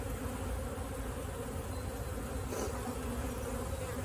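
Honey bees from a package installation buzz continuously in a dense, steady drone around the hive, close and moderately loud, with no voices.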